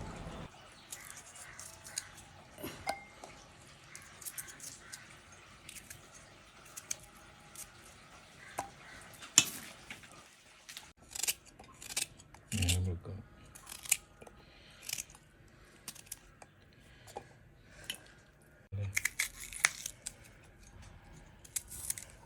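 Onion, garlic, ginger, tomato and green chilli being cut up for alfaham, heard as scattered light, crisp snips and taps at an irregular pace, close and fairly quiet, with a few louder thuds and no talking.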